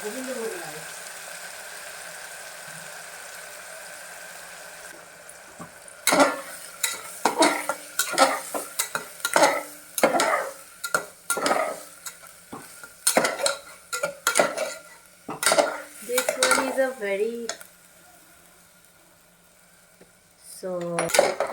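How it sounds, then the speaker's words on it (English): Govindabhog rice being fried and stirred in a pan with raisins and cashews for Bengali-style jeera rice, a steady sizzle under repeated scraping and clinking of a spoon against the pan, loud and close. "Just fry the raisins and the cashews and fry the Govindabhog rice."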